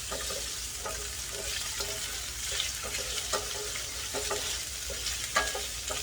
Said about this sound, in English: And then right away you add in ginger and garlic in.